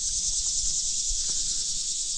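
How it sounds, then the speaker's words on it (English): Crickets chirp in a dense, continuous high trill outdoors at a mountaintop campsite, steady and fairly loud, with faint low rustles underneath. "Nothing but some crickets."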